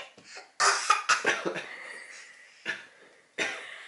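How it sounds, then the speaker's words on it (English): Several harsh coughs in quick succession, close and loud, followed after pauses by two more single coughs. "You're making me cough"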